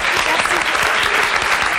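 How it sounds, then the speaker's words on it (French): Loud, dense applause fills the whole moment, steady clapping from a crowd with some voices mixed in. "Bravo, faut l'applaudir, elle est très bien."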